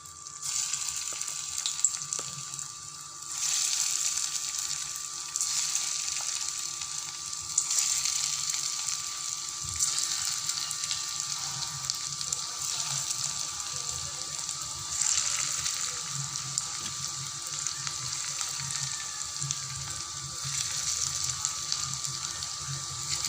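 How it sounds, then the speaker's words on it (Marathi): Potato and sago pakoras deep-fry in hot oil, a steady bubbling sizzle with soft surges and faint background noise throughout. "त्यात आता आपण एक तळून घेऊया पकोडे टाईप"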